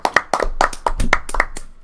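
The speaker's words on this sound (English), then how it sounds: "That was a horrible applause." A short burst of scattered hand clapping on a podcast, uneven and thin rather than a full crowd, with sharp separate claps sounding close.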